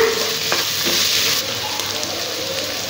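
Curry leaves sautéing in a Geek Robo Cook nonstick pot, a loud continuous hissing sizzle close up with a few soft scraping stirs and a slight drop in intensity partway through.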